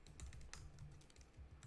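Quiet typing on a computer keyboard while coding, with irregular bursts of soft key clicks and taps at close range, no talking.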